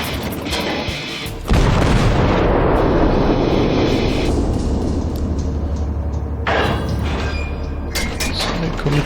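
Battleship guns fire in the naval combat game World of Warships, giving a heavy booming blast followed by a sustained loud rumble and roar. A second surge of noise comes later, with no talk over it.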